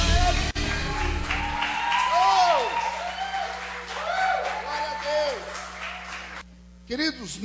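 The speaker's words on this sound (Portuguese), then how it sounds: "Você pode aplaudir." Congregation at a church worship service applauding, a dense wash of clapping that swells and fades over several seconds, with sung or spoken voices and sustained music drifting through it.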